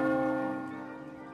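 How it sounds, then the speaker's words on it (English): Church bell tolling in the Mount & Blade North & South mod battle game, a single resonant strike ringing out and slowly decaying, clear and alone. "Colonel Brutus continues to toll the bell."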